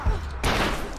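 A new weapon in Rise of the Tomb Raider fires a quick burst of shots, a sharp thump followed by a louder crack and a ringing, noisy tail, close and loud.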